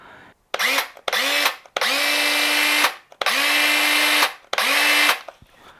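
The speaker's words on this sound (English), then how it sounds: "Alright, this is the circular saw." A Porter-Cable 20V cordless circular saw with a small 5.5-inch blade is triggered in five separate bursts, each spinning up with a rising whine, holding steady, then winding down before a short silence, loud and close.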